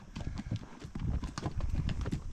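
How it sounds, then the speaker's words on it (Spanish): Horse hooves clip-clop steadily and close up as the horse climbs a steep trail on a guided ride in the Serra de Tramuntana mountains of Mallorca, with a dense, continuous rhythm of footfalls. "El caballo, la verdad que se porta muy bien, como decía Camelia, es un caballo tranquilo"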